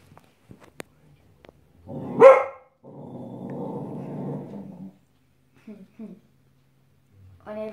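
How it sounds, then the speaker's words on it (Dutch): A dog barks at the animated film Jungle Book playing on a screen: a single sharp, loud bark, then a few seconds of rougher, sustained vocalizing, with scattered quieter sounds around it. "Die blaft tegen de film Jungle Book."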